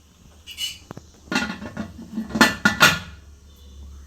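A metal pressure cooker lid, without its rubber gasket or whistle, is handled and set onto the pot, giving a few close metallic clanks and scrapes among quieter rattles.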